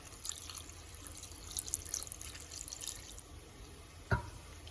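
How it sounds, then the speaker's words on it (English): Half a cup of water pours into a mixer grinder jar over curry leaves for chutney, a faint, steady trickle and splash ending in a soft knock of the jar, with no voices. "So here I'm adding half a cup of water."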